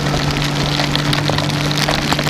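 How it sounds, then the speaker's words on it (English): Rain pattering steadily during a motorcycle ride in cool weather, a dense, even hiss of drops with a low hum underneath and no speech. "as soon as I started riding it started raining again"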